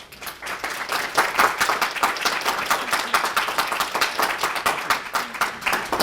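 An audience at a university lecture series claps to welcome the lecturer, a lively, fairly close applause with individual claps audible and an even, continuous intensity.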